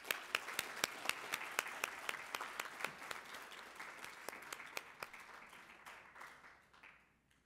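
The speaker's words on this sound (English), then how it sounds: "Please join me in giving the silver winners a round of applause." Sparse, distinct claps from a ceremony audience honouring silver prize winners at a scientific prize event, a quiet room with individual hand claps standing out, thinning and fading after about seven seconds.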